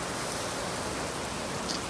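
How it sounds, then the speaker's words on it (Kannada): Steady rain falls in the morning in Kalaburagi, a dense, even hiss of drops with no breaks and no voices, heard as soft, constant background noise. "ಚೆನ್ನಾಗಿ ಮಳೆ ಬರ್ತೈತೆ. ಬೆಳಿಗ್ಗೆ ಮಳೆ ಬರ್ತೈತೆ ಕಣ್ರು."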